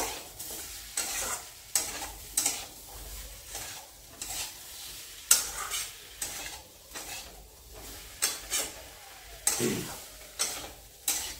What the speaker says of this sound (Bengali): দিয়ে ভালো করে নাড়াচাড়া দিয়ে 2 মিনিট কষিয়ে নেব।